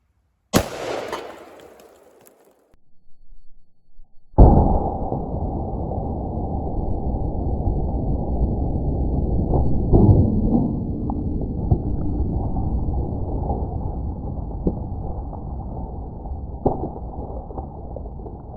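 A sharp, loud AR-15 rifle shot firing a 77 grain Sierra MatchKing hollow point into soup cans outdoors, followed after a short pause by a long, broad rushing roar that lasts to the end.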